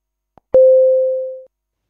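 A short click is followed by a single steady telephone tone that holds for about a second before cutting off, clean and alone.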